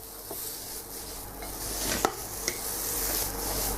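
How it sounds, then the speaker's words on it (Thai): Rice with holy basil and minced pork is stir-fried in a hot pan, a loud continuous sizzle close up with scraping spatula strokes and a couple of sharp metal clinks. "ผัดให้ข้าวเต้นข้าวแห้งร่วนจะน่ากินนะครับ"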